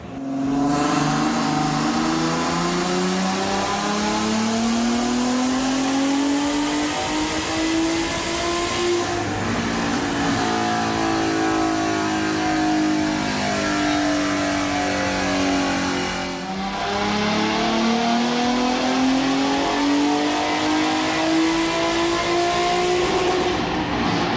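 Turbocharged V6 Ford Mustang S197 with a low-mount turbo, revving loudly and continuously up close, pitch climbing steadily through the gears with two brief lifts between pulls.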